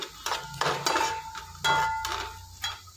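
A metal spoon stirs sliced onions and green chillies in a pan for brinjal curry, with repeated scraping and clinking strokes against the pan over a soft sizzle, close and fairly loud with no talk.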